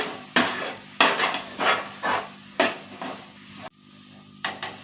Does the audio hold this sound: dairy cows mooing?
no